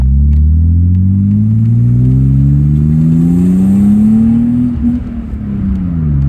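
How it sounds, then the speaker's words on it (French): A BMW E36 323i inline-six engine revs loud and close in first gear, its deep smooth drone rising steadily in pitch before easing off near the end. "Le 6 en ligne de chez BMW, c'est un bruit spécial."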